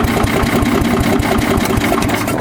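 A Massey Ferguson 10 tractor engine runs steadily and loudly up close, with a fast, even low chugging pulse of cylinder firings throughout.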